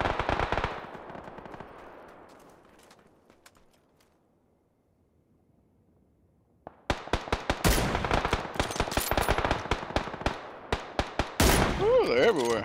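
Video game gunfire with an M24 in a squad fight: a burst fades out, then after a quiet gap dense rapid automatic fire and sharp shots return loudly and continue to the end.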